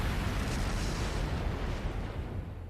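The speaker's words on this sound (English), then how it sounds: "Flash grenade! Everyone down!" A flash grenade goes off in the role-playing game Trails of Cold Steel 3, heard as a steady, dense roar of blast noise that holds for a few seconds and eases only slightly, with no voices.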